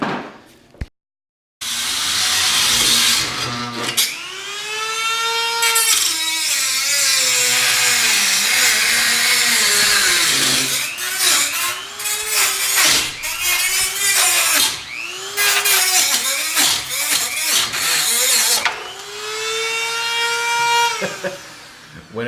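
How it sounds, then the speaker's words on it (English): A Dremel rotary tool cuts on a 1974 VW Beetle during a manual conversion, a loud, high whine in repeated bursts that rise and drop as the tool bites and eases off, with short gaps between them. "When in doubt, dremel it off."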